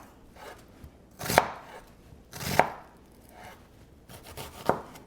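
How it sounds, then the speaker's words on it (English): A knife chops onions into small dice on a board, three distinct heavy chops with lighter taps between, close and clear with no speech. "You want kind of smaller pieces of onions, smaller dices as well."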